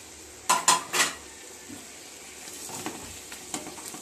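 Chopped tomatoes are tipped into a pan of browned, frying onions and stirred, giving a few loud clattering knocks of utensil on pan up front, then softer scraping and stirring over a quiet sizzle.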